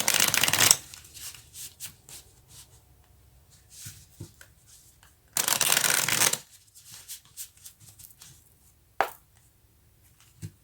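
Tarot cards are shuffled in two quick riffles, each a loud, dense, papery flutter near at hand, with soft card handling, taps and a sharp snap between them and no voices.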